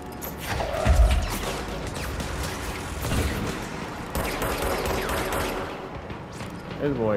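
Heavy gunfire from a large gun in a combat video game, dense overlapping bursts and booms that keep going almost the whole time, loud and close, with a strong thud near the start.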